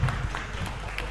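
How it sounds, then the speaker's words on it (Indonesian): An audience at a FinTech business forum applauds briefly, a soft, even patter of many hands clapping over a low room rumble. "Tepuk tangan dong buat Ricky"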